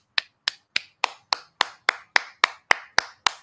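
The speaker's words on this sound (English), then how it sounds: "Can I get a round of applause?" Twelve sharp, evenly spaced claps ring out alone, a steady single-handed round of applause with crisp attacks and short decays, close and fairly loud.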